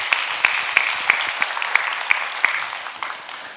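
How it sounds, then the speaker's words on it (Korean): A church congregation in Gunsan claps in an even, rhythmic beat, sharp individual claps landing about three times a second over a soft wash of scattered clapping, moderately faint and fading toward the end. "우리 박수 한번 해줘요."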